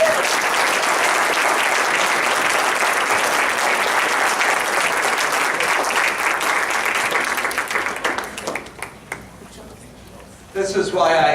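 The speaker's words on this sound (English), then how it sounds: "have a round of applause for that" A roomful of people applauds loudly and steadily for several seconds before the clapping thins out and a voice resumes.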